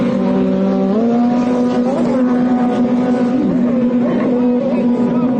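Several jet skis roar off the line together at the start of a race on Lake Lavon, a loud steady engine drone with pitch shifts as they accelerate.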